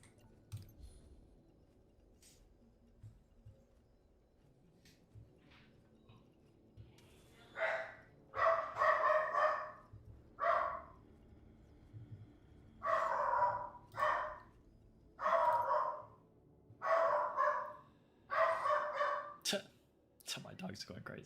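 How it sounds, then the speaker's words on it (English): A dog barks repeatedly in bursts, fairly close and loud, over a quiet indoor background with faint talk and game sounds beneath. "My dog's going crazy."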